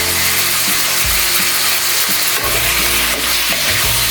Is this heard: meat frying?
yes